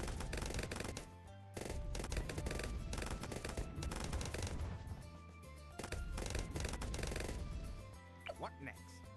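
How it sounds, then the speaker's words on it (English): Machine gun tower firing in the Bloons TD 6 tower defense game, rapid dense bursts of gunfire that pause briefly and resume, loud and continuous with a voice talking over it. "we've got a machine gun"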